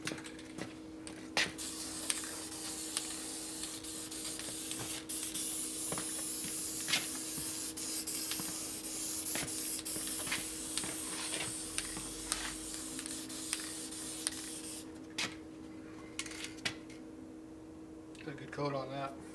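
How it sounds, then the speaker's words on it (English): An aerosol spray can hisses steadily for a long stretch, painting a hot 1957 Harley-Davidson Panhead motorcycle cylinder head, with a continuous hum beneath and occasional clicks, then the spray stops and quieter shuffling follows. "So now you go ahead and paint it."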